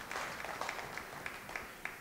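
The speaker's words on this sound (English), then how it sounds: "the run has reached 100, and that's what you hear the applause for" Spectators at a 14.1 straight pool match in the World 14.1 Tournament finals applaud a 100-ball run, a soft, scattered patter of hand claps with a few sharper individual claps, heard from a distance at low volume.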